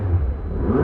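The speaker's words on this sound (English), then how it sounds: "it's the instant noise that you get even just on startup." A McLaren 600LT starting up, a brief, loud, deep engine rumble with a rising rev close by, and no voices.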